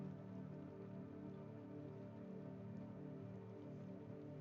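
Heavy rain pours down steadily in the video game Dispatch, a constant soft patter and wash of drops on surfaces, faint and unbroken with no talk.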